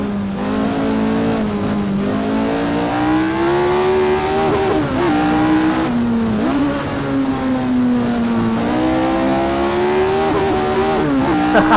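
Lotus 49 race car engine in Assetto Corsa, a loud, continuous high-pitched engine note rising and falling as the revs climb and dip through gears, heard close and alone.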